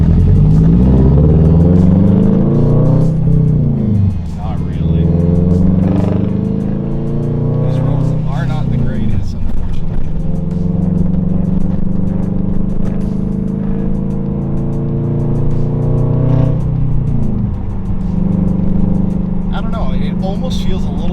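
A car engine fitted with unequal length headers revs and pulls through the gears while driving, a loud rumbling drone rising in pitch and dropping at each shift, close and continuous, with occasional talking over it.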